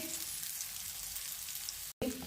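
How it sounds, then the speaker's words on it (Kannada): Semolina-coated banana slices fry in hot oil with a continuous close sizzle and light bubbling, briefly cut off near the end before the hiss resumes, no voices. "ರವೆ ತೊಗೊಂಡಿದ್ನಲ್ಲ ಅದೆಲ್ಲ ರೆಡಿ ಮಾಡಿ ಇಟ್ಟಿದ್ದನ್ನು ಒಂದೊಂದಾಗಿ ಇದರಲ್ಲಿ ಈ ರೀತಿ ಫ್ರೈ ಮಾಡಿ"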